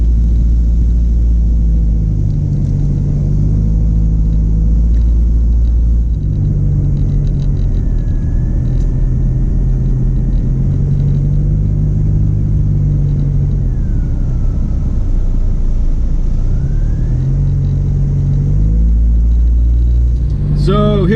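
A four-wheel-drive vehicle running in two-wheel drive along a beach, its engine rumbling loud and steady throughout from inside the cab, with occasional faint squeaks over the drone.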